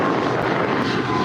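An aircraft taking off from runway 25 at LAX: a loud, steady broadband engine roar from a powerful jet, constant over the short stretch with no pause, and no voices.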